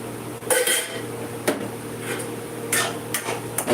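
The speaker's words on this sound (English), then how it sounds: "And I'm going to stir it." A spoon scrapes and clinks against a metal cooking pot while food is stirred, a few sharp knocks scattered over steady low kitchen noise.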